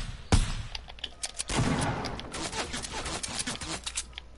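Gunfire in a Fortnite-style battle royale match, a loud opening shot followed by a rapid fusillade of bursts that stay close and fairly loud throughout.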